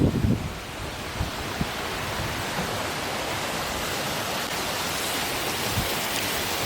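Water rushes down a granite-block dam spillway, a constant broadband roar that stays loud and steady throughout, with a few faint knocks near the start and no speech.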